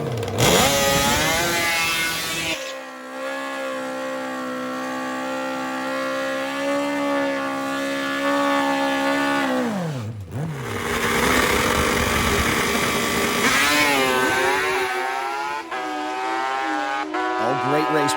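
A two-stroke triple motorcycle drag races on nitrous, its engine howling loud and steady, with pitch sweeps as it shifts and winds up. Race commentary runs over it.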